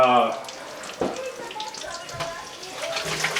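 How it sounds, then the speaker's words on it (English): Tap water runs while hands are rinsed in a home kitchen after frying bacon, a faint steady splash under a voice, with a brief clatter near the start. "rinse off the hands"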